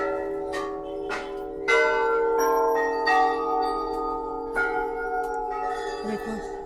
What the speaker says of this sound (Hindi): देखो कितनी सारी घंटियां यहाँ पे लगी हुई हैं।